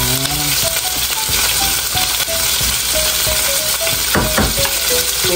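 Yakiniku meat frying in sauce while being stirred, a loud close sizzle with repeated scraping and clinking strokes of a utensil against the pan, no speech.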